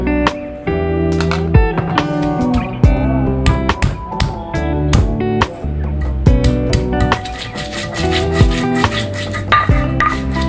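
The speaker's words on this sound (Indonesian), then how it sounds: "Pertama-tama kita giling jahe sama lengkuasnya, digeprek saja ya teman-teman" Ginger and galangal smashed and ground with salt for a Padang-style home dish, heard as a steady run of sharp pounding knocks under loud, continuous background music.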